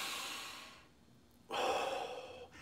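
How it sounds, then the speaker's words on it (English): Deep, slow breathing during an exercise routine: a long breath out, a pause, then a strong inhale, close and clear with no talking. "Practice breathing deep."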